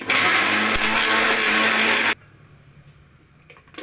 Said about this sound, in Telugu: మిక్సీ అయితే పట్టుకుంటున్నాను